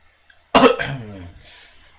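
A single harsh cough bursts out close by, followed by a brief rough throat-clearing tail that fades within a second or so.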